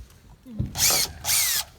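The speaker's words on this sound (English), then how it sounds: "I'm going to keep the ground in, and I'm going to unscrew these" Power drill unscrewing screws from a conventional light fixture: a small click, then two loud close whirring bursts, each rising slightly in pitch and lasting about a third of a second.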